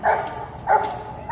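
Dog barking in the Gray Zone Warfare shooter game, three repeated woofs spaced about half a second apart, moderately loud over low background game ambience.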